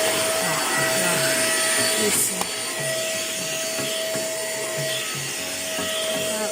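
A Deerma DX700 ultra-quiet handheld vacuum cleaner runs with a steady whirring hum and a thin high whine while being pushed under a sofa. A short spoken word is heard early on.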